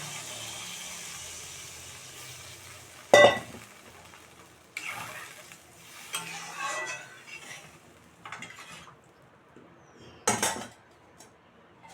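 Water poured into a pan of potato curry with dhoka, a sharp sizzling splash followed by softer clinks and scrapes of a utensil against the pan, heard in short scattered bursts against a quiet kitchen background.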